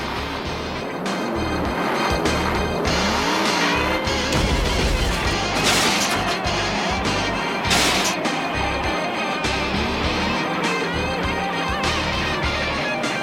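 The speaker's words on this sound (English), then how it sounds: "These methanol-burning V8s deliver 700 horsepower and easily reach speeds of 160 kilometers an hour on these tiny dirt tracks" Methanol-burning 700-horsepower V8 sprint cars race on a small dirt track, a constant loud engine roar with rising and falling passes and a couple of sharp bursts.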